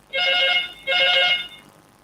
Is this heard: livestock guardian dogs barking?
no